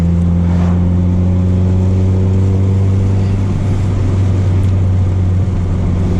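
A 1998 Honda Civic EX drives along with its engine humming a steady, loud drone throughout, a low rumble under a constant mid-range tone with no voices.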